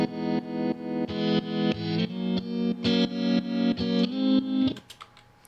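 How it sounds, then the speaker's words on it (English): A guitar runs through a mono modulation effect in Helix Native. Repeated distorted chords swell up in volume and then cut off, in a steady rhythmic pulse of about a dozen swells, before trailing off into faint clicks. "Kind of almost gives it like a reverse type of effect, like a volume swell"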